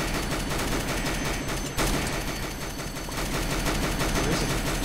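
Dense, continuous automatic gunfire in Roblox Mad City, loud and close with rapid overlapping shots throughout and a brief break partway through.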